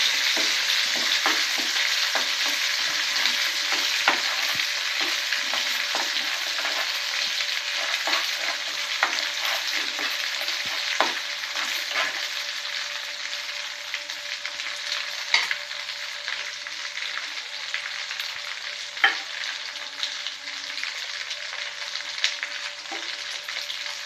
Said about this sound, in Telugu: 1 స్పూన్ అల్లం వెల్లుల్లిపాయ పేస్ట్, పచ్చి వాసన పోయే వరకు వేయించుకోవాలి